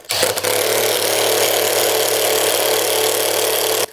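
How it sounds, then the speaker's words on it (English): A Makita drill fitted with a Diablo SpeedDemon self-feeding spade bit bores through wood. It makes a loud continuous whirring drone close by for about four seconds, then stops abruptly, with no talk. "Pretty good with the Makita. Let's drill a hole."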